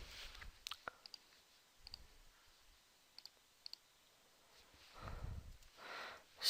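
A computer mouse clicks sharply and close by, in pairs and singles spread across a quiet room, followed by a couple of breathy rustles.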